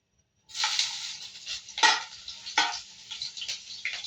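Ginger fries in hot cooking oil, starting with a sudden loud sizzle and then crackling and spattering close up, with a few sharper bursts as the pieces are stirred.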